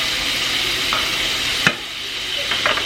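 Ingredients are sautéed together in a pan for a budget home meal, with a steady soft sizzle and one sharp clink of a utensil against the pan partway through.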